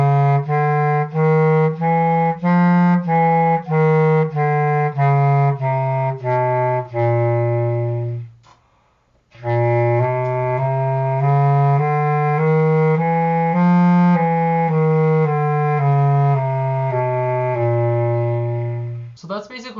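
A bass clarinet plays chromatic half steps from C up to G as a run of clear, evenly spaced sustained notes, then pauses briefly and plays a second run of held, connected notes. It is close and solo, with no talking.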